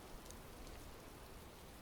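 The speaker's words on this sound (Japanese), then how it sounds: "雨か。" Steady rain in Metaphor: ReFantazio hisses as a faint, even wash of falling drops, with no other sounds.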